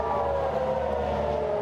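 Air raid sirens sounding in Tel Aviv during an Iranian missile attack, a steady sustained wail that holds at a constant loud level with no break.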